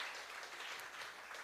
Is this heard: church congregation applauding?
yes